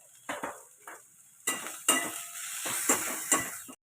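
Chicken masala, coriander and red chilli powder are stir-fried in a pan, with a spatula scraping and clanking against the metal in short bursts over a soft sizzle, close up and without talk.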